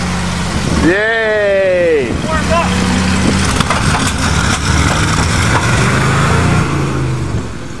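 The engine of a 427 Chevy dump truck runs with a steady low rumble throughout, loud and close, while a voice gives a brief cheer early on.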